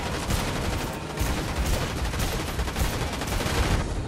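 Dense, continuous gunfire from a Dr. Doom live event in a shooter video game: overlapping rapid shots and bursts that crackle loudly throughout, with no talk over them.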